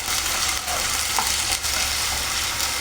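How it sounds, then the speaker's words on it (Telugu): Onion with ginger garlic paste frying in a pan, a dense, steady hiss of sizzling oil close up, with faint stirring touches and no voices. "ఫ్రై అవుతుంది కదా, కరివేపాకు కూడా వేసేస్తున్నాను"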